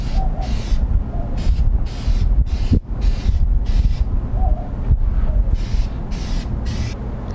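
A spray gun lays clear coat over painted flags on a Camaro hood, producing close, loud bursts of hissing spray that repeat in steady passes with brief pauses between them.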